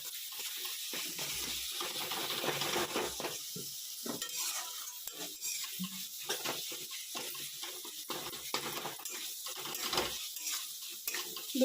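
Tadka mixture being stirred in a pan on the stove, a steady scraping and sizzling texture running continuously at close range with soft irregular clinks, no talking.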